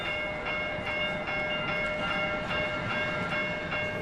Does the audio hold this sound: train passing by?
yes